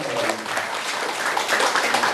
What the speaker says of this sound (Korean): 동의하신다면 박수 주시고